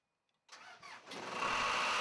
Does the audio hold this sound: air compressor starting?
yes